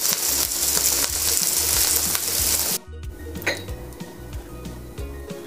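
Browned veal, onion and carrot with their juices tipped from a frying pan into a slow-cooker pot: loud sizzling and clinking of utensils against metal, then a sudden drop to quieter clattering and a few soft knocks.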